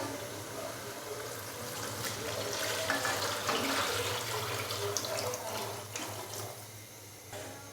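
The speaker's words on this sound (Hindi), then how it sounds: "तो अभी मैं इसके अंदर डालूँगा पानी।" About seven glasses of water pour steadily into a cooking pot for pea and carrot pulao, with a hissing, splashing rush that swells and tapers off, close by and moderately quiet.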